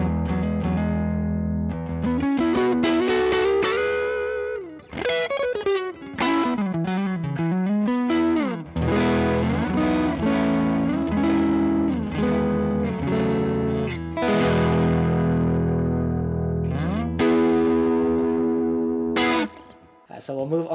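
High-gain electric guitar through a Donner Dumbal Drive overdrive pedal plays a thick, distorted riff with sustained chords and sliding notes, loud and continuous from start to finish.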